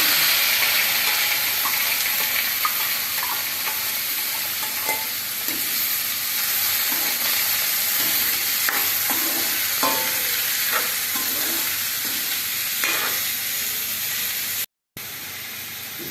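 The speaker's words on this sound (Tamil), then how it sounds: "இந்த நறுக்கி வச்ச வெள்ளரிக்காயை இதில் போட்டுக்கலாம்." Chopped Malabar cucumber stir-fries in a hot pan, a continuous close sizzle and steamy hiss punctuated by repeated spatula scrapes and stirring knocks, with a brief dropout near the end and no speech.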